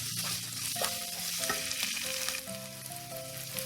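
Tomato paste being stirred in a hot pan while cooking a potato soup: a steady oily sizzle and frying crackle, with scraping stirring strokes against the pan, close up and with no one talking.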